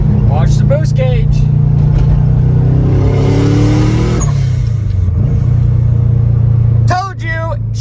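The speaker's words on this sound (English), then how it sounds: "Now the car makes a lot of boost." Turbocharged car engine revving hard under boost, a loud steady drone that climbs in pitch then drops, with brief voices at the start and end.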